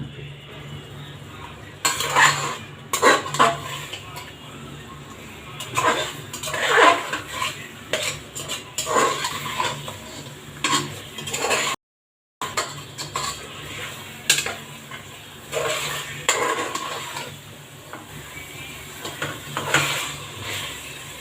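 Chicken is stirred into a thick spice paste in a cooking pan, with a spoon scraping and knocking against the metal in irregular bursts, close and fairly loud, with no one speaking.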